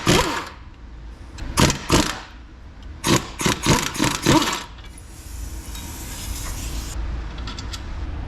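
An impact wrench with a swivel socket hammers out the 18 mm front brake caliper bracket bolts on a 2013 Jeep Patriot, in several loud rattling bursts of a second or less, close up with no talk.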